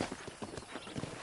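Horse hooves clop at a walk in the Red Dead Redemption video game, a faint, uneven series of about eight soft hoofbeats on a ranch property with no talking.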